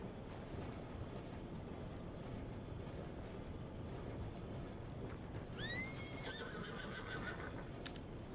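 A horse in a video game whinnies once partway through, a rising then wavering cry over a steady low rumble of background noise.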